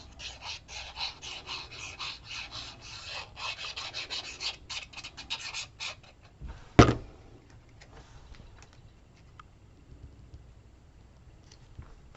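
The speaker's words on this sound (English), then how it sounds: "and then burnish everything really well" Rubbing to burnish glued paper layers of a card, a rapid, steady scraping rasp for several seconds, broken by one sharp knock, and then near silence.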